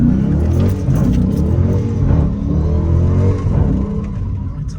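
A Dodge RT muscle car with an automatic transmission revs hard while the driver tries to slide it, giving a loud, steady engine roar and rumble throughout.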